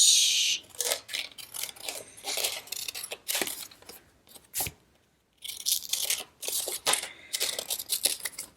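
Scissors cut paper for a magazine journal page in close, crisp snips and rustles, coming in irregular bursts with a short quiet gap midway.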